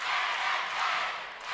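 Crowd cheering at a cheerleading championship: a dense, steady roar of many voices in a large venue, continuous and fairly loud throughout, swelling slightly before easing at the end.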